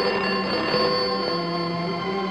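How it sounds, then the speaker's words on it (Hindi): A telephone rings inside a 1970 Hindi drama film, a continuous bright electric bell tone with harmonics that is loud and steady throughout the short moment. "हाँ फोन है तुम्हारा"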